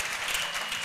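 Crowd cheering and applauding at an outdoor salvation and healing crusade in Bafoussam, a steady dense wash of clapping and voices, moderately distant and even throughout.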